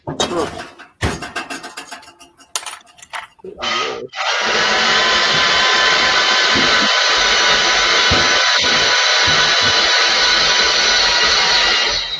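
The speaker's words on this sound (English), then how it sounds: "He's using the bandsaw" After brief talk, a bandsaw starts up and runs loud and continuous while cutting during scrap processing of transformers, a steady roaring whine with slight fluctuations as it works.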